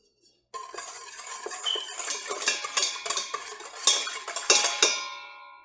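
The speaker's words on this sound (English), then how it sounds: "Mix until there's no powder left." A utensil clinks and scrapes rhythmically against a bowl while milk powder is mixed into bun dough, a bright repeated stirring that starts abruptly and runs to the end.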